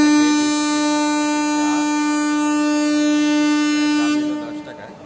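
Namkhana local train pulling into a platform, a loud, sustained horn holding a steady tone for about four seconds before cutting off, close by amid station noise.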